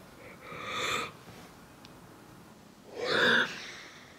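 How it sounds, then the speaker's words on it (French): Two drawn-out, breathy yawns a few seconds apart, close and fairly quiet, with near silence between them. "c'est horrible de bailler"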